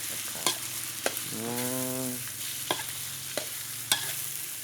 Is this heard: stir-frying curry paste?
yes